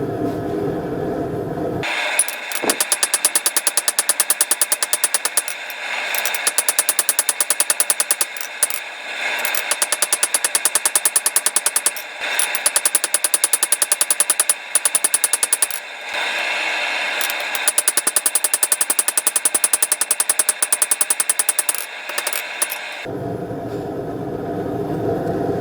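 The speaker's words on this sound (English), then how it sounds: "I'm only going to hammer on one side of that metal" Knife steel is hammered flat at a forge in a rush against the clock, giving dense, rapid, loud metallic strikes in long bursts with brief pauses between them.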